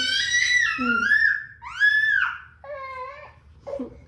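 A baby cries and screams in long wailing bursts that rise and fall, loud and close, with shorter whimpering sobs near the end and no other voices.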